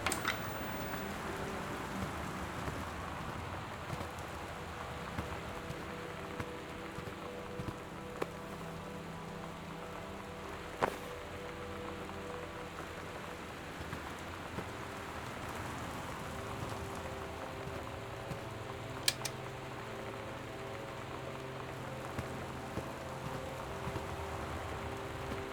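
Rain in the video game Gone Home falls steadily on a surface, a continuous soft patter with occasional sharper drips and ticks, even and unbroken throughout, with no voices.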